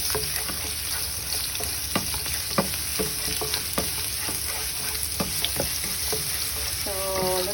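Garlic stir-frying in hot oil for a Chinese vegetable dish: a continuous bright sizzle broken by regular scraping taps of a utensil against the pan, close and fairly loud, with a short clink near the end.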